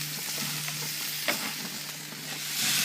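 Steaks sizzle on a grill plank over an outdoor grill, a steady close hiss with a faint hum beneath and one brief sharper crackle partway through.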